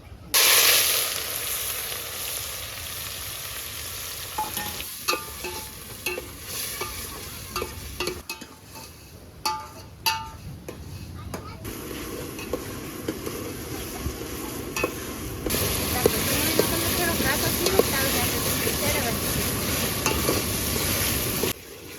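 Chopped onion fries with asafoetida in a hot pan, a steady close sizzle that flares louder when the onion goes in, broken by scraping stirs and clinks of a spoon, with no talking.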